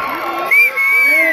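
An auditorium crowd cheers and whoops for a young drummer, a brief burst of high shouts and yells with a tonal whistle-like cry running through it.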